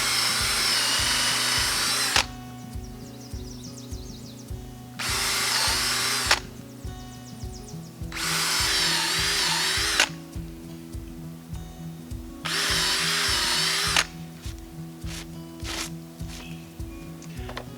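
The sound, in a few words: drilling holes into a log for shiitake mushroom dowels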